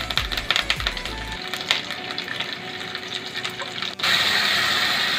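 Curry leaves dropped into hot oil over browned onions, a loud steady sizzle and crackle that swells into a brighter hiss near the end.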